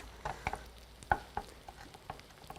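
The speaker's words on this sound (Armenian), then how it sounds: "մի քիչ կթողնենք այսպես տապակվի" Food frying in a pan, heard as a low steady sizzle with a few soft stirring clicks and taps, close up and without speech.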